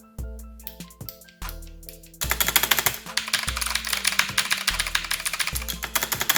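Clacky keystrokes on a mechanical keyboard, a few scattered presses at first, then rapid continuous typing, close and crisp.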